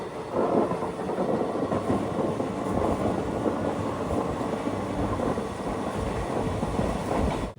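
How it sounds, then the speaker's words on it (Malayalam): A passenger train on the Tirunelveli–Nagercoil line in Tamil Nadu approaching Melapalayam station, heard as a loud, continuous rumble and roar of wheels and carriages with a dense low-end drone throughout, no voices. "ഏഴ് 15 മേലേപ്പാളയം സ്റ്റേഷനിലേക്ക് ഇതാ ട്രെയിൻ എത്തുകയാണ്"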